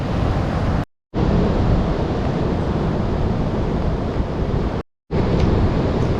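Strong outdoor wind roaring into the microphone among trees and bushes, a loud continuous rumbling buffet broken by two brief cuts of silence.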